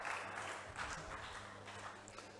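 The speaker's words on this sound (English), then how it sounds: "Please, let's clap for them." An audience at a school quiz competition at New Pathways Academy applauds the contestants, a faint, steady patter of many hands clapping that tapers off slightly toward the end.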